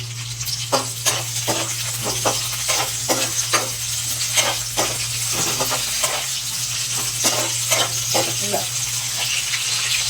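Cumin, cloves and chopped green chillies fry in hot oil with a continuous close sizzle, punctuated by rhythmic scraping stirs of a spoon against the pan over a steady low hum.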